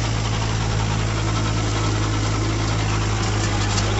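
Steady, loud drone of a Kubota 4501 tractor's 45 hp diesel engine running in second gear with a rotavator attached, constant rumbling throb held evenly with no rpm drop and no talking.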